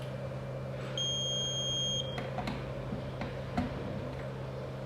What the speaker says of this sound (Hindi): ऑडियो विजुअल अलार्म में बजर भी आता है, जो अभी हमने देख लिया है।